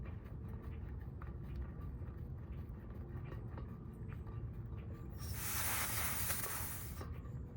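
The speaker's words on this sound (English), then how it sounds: "And some gas is gonna come out, which is okay." Propane gas escapes from the valve of a small tank being refilled, a loud broadband hiss bursting out for about two seconds over a low background rumble.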